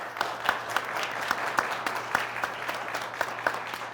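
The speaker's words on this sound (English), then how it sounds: "Let's have a round of applause for them." Steady applause from a crowd for the Rockford Fire Department, dense clapping with a few sharper claps standing out, continuous and fairly loud.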